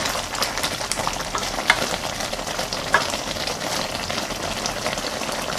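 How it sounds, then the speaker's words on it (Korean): Sugar syrup for candied ginger bubbles and sizzles steadily in a pan, with a couple of soft stirring knocks rising above the constant simmer. "설탕물이 많이 졸아들었고요."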